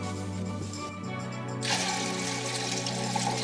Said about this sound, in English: Step one, let's add water. Let's fill it up halfway.